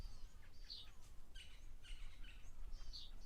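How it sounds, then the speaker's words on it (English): Red-billed buffalo weavers chirp and chatter in short, busy bursts at a waterhole against a quiet outdoor background, fairly faint and some distance away. "And some red-billed buffalo weavers, some grey go-away birds."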